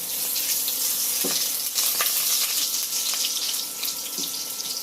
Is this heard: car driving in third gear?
no